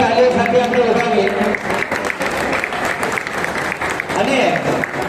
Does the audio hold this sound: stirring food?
no